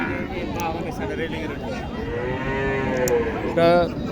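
Cattle, including Sahiwal and local cows, at the Dighir Haat cattle market in Sapahar, Naogaon, with several drawn-out moos, one loud and close near the end, amid crowd chatter and talking.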